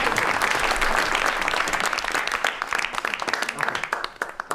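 Audience applause after a song, a dense, sustained burst of many hands clapping that thins out toward the end. A voice speaks briefly beneath it.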